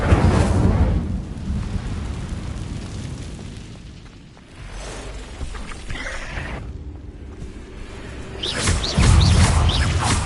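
A fiery spell burst in the Hogwarts Legacy video game, a loud whooshing blast of flame that swells and crackles, among several other spell effects and booming impacts.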